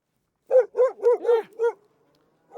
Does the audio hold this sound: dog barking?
yes